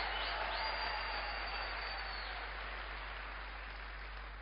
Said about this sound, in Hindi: आप लोग तालियां बजा रहे हो ना